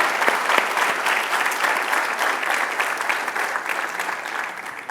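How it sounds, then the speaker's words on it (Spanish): A church congregation applauds the Lord, dense and steady clapping from many hands that fills the space evenly without pause, with no speech over it. "Le damos un aplauso al Señor"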